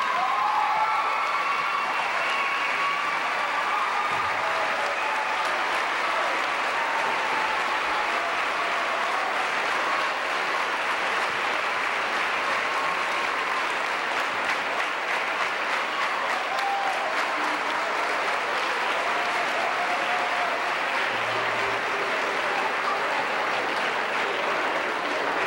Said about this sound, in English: I would hope that you would help us show your appreciation by a nice round of applause for all of these seniors.